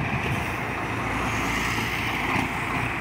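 A car engine, likely in a Brazilian Volkswagen-style modified low-rider ('pé de pano'), runs as a steady near rumble with low-end drone throughout, alone without talk.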